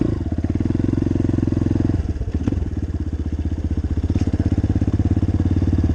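A 2018 Apollo 250RX motorcycle running steadily with a loud, close engine drone and a rapid pulsing beat; the note briefly dips and wavers around two seconds before settling back into a steady, continuous rumble.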